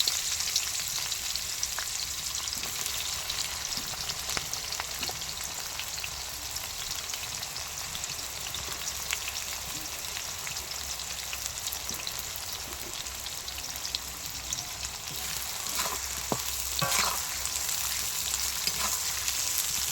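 Onions fry in hot oil in a kadai, giving a continuous close sizzle with crackles and occasional stirring, steady in loudness, with no talking.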